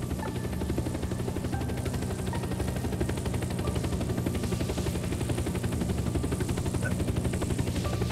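Air ambulance helicopter in the survival game Unturned, its rotor and engine drone running steady and loud throughout with a constant rhythmic chop and no talk.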